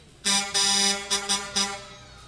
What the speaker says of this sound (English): Very, very loud honking of the horn right there